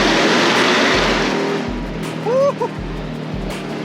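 Supercharged Jeep Grand Cherokee Trackhawk engine roaring loudly up close, with sharp repeated downshift blips and pops punctuating the steady drone, while a person whoops with excitement over it.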